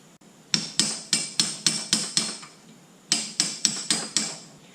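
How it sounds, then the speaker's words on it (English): A hammer strikes notched steel control arms in two quick bursts of about seven and five sharp metallic blows, each ringing briefly and close, with no talking. "we're going to hammer it down."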